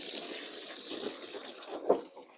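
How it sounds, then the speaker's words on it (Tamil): Water runs steadily into a container outdoors, a continuous close splashing hiss with a brief louder gurgle near the end. "தண்ணி கொஞ்சம் விடுங்க."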